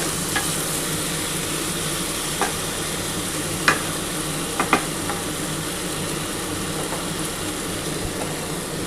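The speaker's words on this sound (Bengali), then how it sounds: "মুগ ডাল মুসুর ডাল সব একসাথে কিন্তু একটু ভালো করে নাড়াচাড়া করে" Rice with mung and masoor dal is stirred in a pan, a steady close sizzle running throughout with a few sharp scrapes and clicks of the spoon against the pan.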